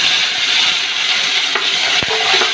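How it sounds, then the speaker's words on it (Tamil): Native tomatoes sautéing in a pan for Tamil brinjal pachadi, a steady close sizzle and frying hiss with a few sharp utensil scrapes and stirring clicks near the end. "தக்காளி நல்லா வதங்க விடலாம்."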